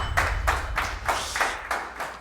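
A small audience claps for Gerard in several distinct, rhythmic bursts, each a soft group clap with a low thump underneath, fairly close and moderately loud with no talking.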